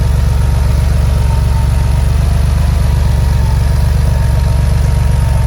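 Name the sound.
1983 Porsche 911SC engine idling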